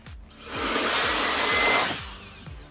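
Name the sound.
compressed air blowing out car speaker grills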